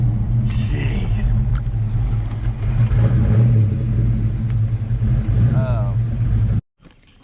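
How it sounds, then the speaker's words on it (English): A Fox-body Mustang fitted with heads, cam and intake revs with a loud, low rumbling exhaust that holds steady for several seconds, with people talking over it, before cutting off abruptly near the end. "That car sounds good, boy."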